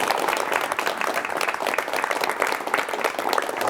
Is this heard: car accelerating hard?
no